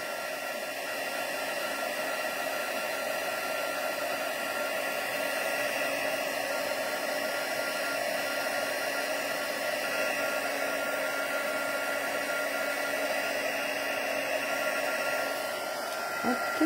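Heat embossing gun blowing hot air in a steady, close whirring roar that runs unbroken for the whole stretch, with only a faint click near the end.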